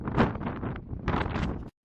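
Strong wind blowing across the Uyuni salt flat, buffeting the microphone as a loud, rough rush that swells and eases for about two seconds before cutting off abruptly.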